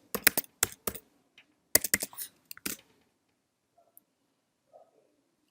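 Clicky typing on a computer keyboard while entering order dates: two quick bursts of closely spaced key presses, then sparse single taps trailing into near silence.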